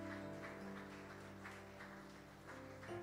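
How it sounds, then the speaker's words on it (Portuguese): A church congregation stands and applauds together, a steady wash of clapping over sustained tonal music, fairly loud and close throughout. "Quem vai estar lá, fica em pé e aplaude Jesus."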